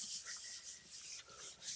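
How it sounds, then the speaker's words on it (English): Paper rubbed by hand onto a painted gel printing plate, faint rhythmic swishing strokes repeating close up with no talk. "Give it a nice little rubby rub."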